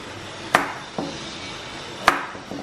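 Pumpkin being chopped into large pieces, a few sharp knife strikes against a cutting board, two loud and two softer, spaced irregularly and heard up close with no talk.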